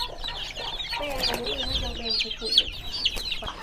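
Young chicks in Laos cheeping at feeding time over a meal of rice bran and ground feed, with rapid high, close chirps in quick succession over faint background noise.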